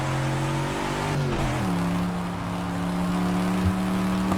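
A 1968 Ford Mustang 2+2 Fastback engine in the Project Cars racing game, a steady droning tone that drops in pitch as the car shifts, then settles into an even hum.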